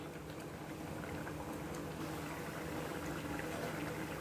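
Egg kuruma, a Tamil-style white curry with boiled eggs, bubbles and simmers in a pan as it reduces. The boiling is a steady, dense bubbling with no talk over it.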